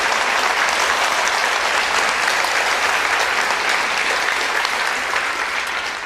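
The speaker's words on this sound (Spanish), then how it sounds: "denle un aplauso, por favor." An audience applauds steadily and loudly for about six seconds at a church talk, a dense wash of clapping that fades slightly at the end.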